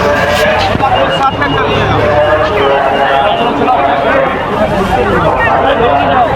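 Dense crowd of pilgrims at the Kumbh Mela, a loud continuous babble of many voices and footsteps close around, with a nearby person talking over it.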